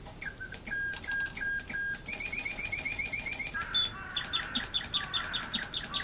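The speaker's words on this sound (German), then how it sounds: "Plötzlich wurde es heller und ich hörte Vogelgesang." Birdsong effect in a German radio play: a series of short, bright repeated chirps and whistled notes rising in pitch across phrases, clear and fairly close over a quiet background, with no talking.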